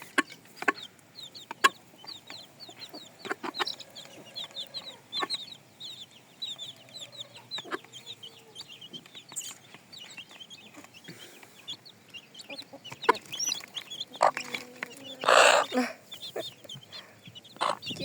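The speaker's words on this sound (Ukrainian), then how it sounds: "Таке гарненьке курчатко." Backyard laying hens, a mixed flock of Easter chickens with green-egg layers, clucking in repeated short calls with scattered louder squawks near the end, and a faint voice now and then.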